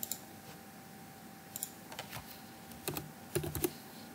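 Keys clack on a computer keyboard in short irregular bursts, several quick strokes clustered together, fairly close and moderately loud, with no voice over them and a quiet room between keystrokes.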